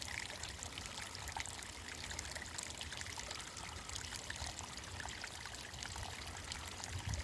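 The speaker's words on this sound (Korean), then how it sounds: "물소리만 들으니까 힐링돼." Water trickling and flowing in a quiet, remote stream on a cold day with ice forming at the edges, a steady close babble filling the whole stretch with no talking.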